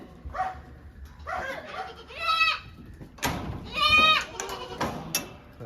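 Goats on a Kerala goat farm bleat for milk: several loud, wavering cries come one after another, some overlapping, with short gaps of low background noise between them.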